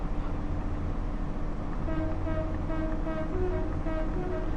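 A steady low rumble of a running train in the video game Train Sim World with a faint horn-like tone drifting in partway through, continuous and fairly loud.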